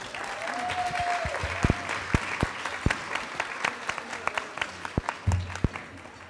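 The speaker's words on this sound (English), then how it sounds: "Let's give them all a round of applause." An audience at a family strengthening summit applauds for the panel facilitators and families, a steady wash of many hands clapping that carries through the whole stretch, with a few sharper claps standing out near the front.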